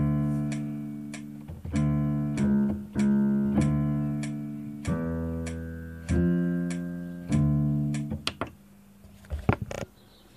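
Orchestral excerpt of the opening theme from the Introitus of Mozart's Requiem, with sustained string chords and repeated accented attacks in a slow steady pulse, heard alone without speech.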